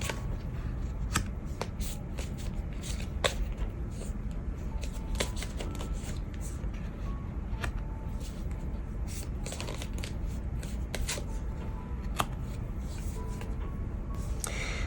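Tarot cards being shuffled by hand, a steady run of soft papery riffles and sharp flicking snaps repeating close up throughout, with no talking.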